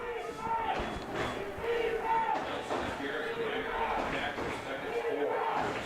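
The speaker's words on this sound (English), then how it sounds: "here comes the crowd, the Norris Titan crowd, giving a chant, defense" The Norris Titans home crowd at a high school state playoff football game against Beatrice chants a rhythmic, repeated 'defense' cry, a steady roar from the stands with an announcer talking over it.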